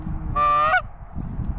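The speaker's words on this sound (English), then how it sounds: "Goose. Coming in." A single goose honks once, a clear drawn-out nasal call rising at the end, close and loud over a low outdoor rumble.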